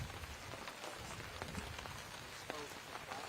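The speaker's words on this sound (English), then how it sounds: "the weather, the rain coming down" Steady rain falls across a disc golf course during a professional tournament round, a constant wash of patter with a few sharper drop hits, heard under faint commentary voices.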